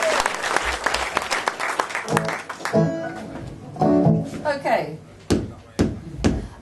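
Audience clapping at a live folk concert in Manley, with dense applause early that thins into scattered claps and tonal music or voices mixed in later.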